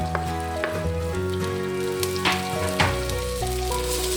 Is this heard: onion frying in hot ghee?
yes